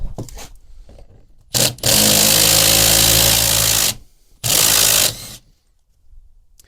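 An impact driver rattles loose rusted T25 screws from the plastic rear panel of an EZGO RXV golf cart. Two loud hammering bursts of a couple of seconds each are separated by a short pause, with quieter handling noise around them.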